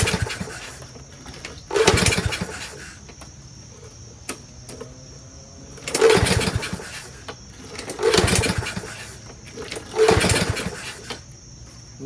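A swapped-engine lawn mower built from two junk mowers is pulled over repeatedly, with four strained cranking bursts spaced a couple of seconds apart, none catching into a steady run, and a faint insect-like whine in the background.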